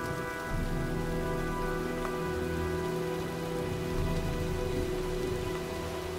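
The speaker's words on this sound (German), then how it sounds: "sieht nach einem Sturm aus" Storm rain in the video game Heavy Rain: a steady, dense wash of rain falling on surfaces, with a constant hiss and a faint low rumble beneath, no voices.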